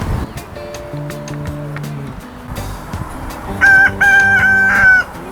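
Free-range chickens in an outdoor setting, with a rooster crowing loudly near the end over a layered background of clucking, other bird calls and distant traffic-like noise.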